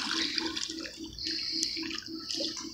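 Water splashing as a child swims in an outdoor pool: continuous sloshing and churning close by, with a steady rhythmic splashing pattern of strokes and no speech.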